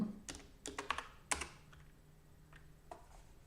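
A few scattered, close keystrokes clack on a computer keyboard during an evening programming livestream, with clusters of taps and short pauses at low volume.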